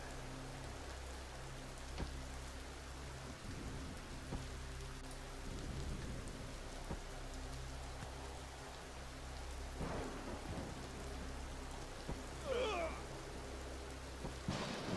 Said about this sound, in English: we are now out of the acid rain here.